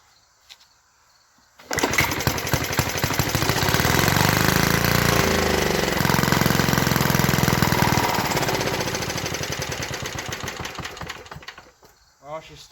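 A 1952 Clinton VS-700 small engine catches and sputters to life, then runs loud and ragged at close range for about ten seconds with an uneven, popping rhythm before cutting out.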